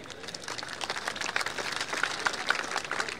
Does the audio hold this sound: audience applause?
yes